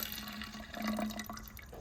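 Strained liquid of mixer-crushed garlic is poured into a one-litre bottle for salad cucumber farming, making a steady close trickle and gurgle for about two seconds with no talking.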